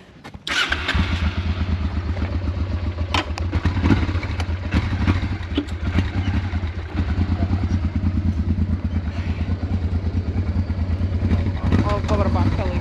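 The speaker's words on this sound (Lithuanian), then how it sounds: "Mes kaip įprastai dabar vakare atsisėdam ant vieno motociklo ir važiuojam kur nors pavalgyti." A Honda Africa Twin motorcycle carries two riders on an evening ride, its engine holding a steady, close droning note with some rough, clattering texture underneath throughout.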